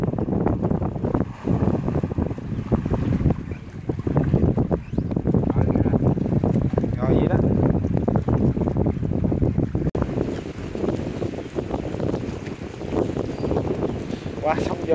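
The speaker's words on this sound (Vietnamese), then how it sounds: "Quá sóng gió rồi" Strong wind buffets the microphone while fishing on a river, with choppy waves slapping around a small boat, a loud, constant roar and rumble throughout and a person speaking at times.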